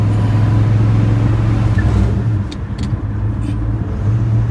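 Engine of a 1965 Ford Ranchero on a test drive, a loud steady low rumble as the truck lugs along at low revs, with its tone easing slightly partway through.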